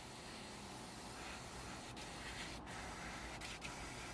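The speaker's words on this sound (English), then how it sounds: "We're going to spray this through." Cellulose thinner is sprayed through a model airbrush in a steady, unbroken hiss that runs close and even throughout, with a couple of faint clicks partway through.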